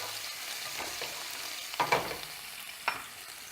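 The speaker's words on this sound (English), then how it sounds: "just give that a big stir to incorporate everything" Garlic and crushed red pepper flakes frying gently in a pan for spaghetti alla puttanesca, heard as a quiet continuous sizzle with a few sharp scrapes and clinks of a utensil stirring near the middle and end.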